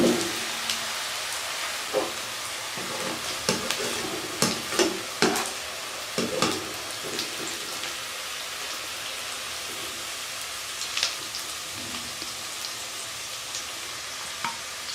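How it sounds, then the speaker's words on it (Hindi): Sliced onions half-fried in oil for bhindi ka salan, a steady close sizzle with repeated spoon scrapes and stirring clatters in the pan. "हम चम्मच चला लेंगे और इसको फ्राई कर लेंगे"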